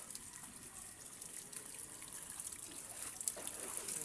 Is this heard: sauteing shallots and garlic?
no